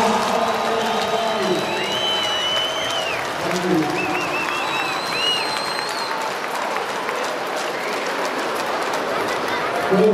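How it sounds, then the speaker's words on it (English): A crowd at a memorial hockey game, FDNY versus Long Beach Guardians, claps in a steady wash of applause lasting several seconds, with a few whistles on top, fading slightly toward the end; a voice briefly speaks. "Round of applause"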